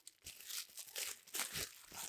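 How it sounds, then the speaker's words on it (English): A small plastic-wrapped package of spare flip book cards is torn open and crinkled close up, with bursts of crackling and rustling running throughout, quiet but distinct. "I'm only going to open one of these little packages with you"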